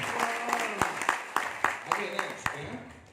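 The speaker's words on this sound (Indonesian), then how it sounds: "Berikan tepukan terbaik pada saya." A small seated audience claps together on request, a sparse and uneven round of applause with several distinct close claps rather than a full roaring ovation, with speech over it.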